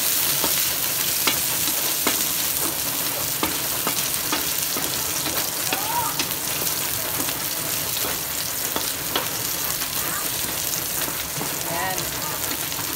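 Sliced onion and ginger sauté in hot oil in a pan for ginataang tilapia, giving a steady, close crackling sizzle with occasional stirring scrapes throughout.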